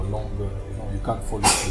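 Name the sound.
a person sneezing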